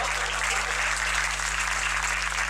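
At a comedy poetry show, an audience claps in a steady, even wash. The applause sounds moderately distant and continues without a break.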